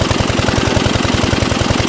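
A tractor engine runs close and loud, with a fast, even low thumping rhythm that holds steady throughout.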